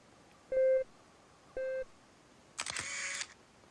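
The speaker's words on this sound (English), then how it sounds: "So here we can take a snapshot." Two short electronic countdown beeps, then a bright camera shutter burst from the snapshot camera in the Walkabout VR game, each sound clean and close with no talking.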